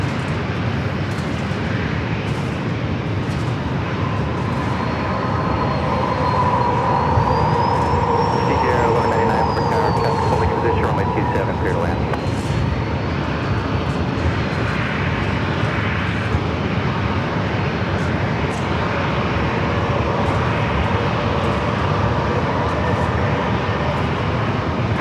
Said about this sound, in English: Alaska flight 650, coming in from Seattle, 737 MAX 9